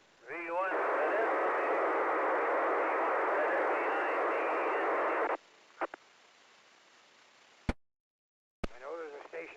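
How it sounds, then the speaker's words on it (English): A loud hiss of radio squelch noise on a 2-meter amateur radio net runs for several seconds, then cuts off abruptly, followed by clicks, a brief silence and a burst of garbled voice. "Nothing but squelch noise."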